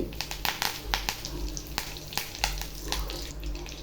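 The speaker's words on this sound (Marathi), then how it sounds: "कढीपत्ता पण चांगला फ्राय झाला आहे" Steady crackling and sizzling of curry leaves frying in hot oil after cumin seeds, with scattered sharp pops and spatters throughout.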